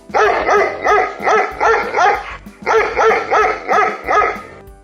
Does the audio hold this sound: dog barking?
yes